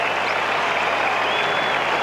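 A rugby stadium crowd applauds a try at a 1989 Auckland versus Argentina match, a dense, steady wash of clapping and crowd noise heard from a distance.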